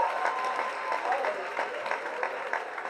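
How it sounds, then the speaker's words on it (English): Audience applause at a Swachh Bharat campaign event, dense continuous clapping with crowd noise underneath and some voices mixed in. "So huge round of applause, guys."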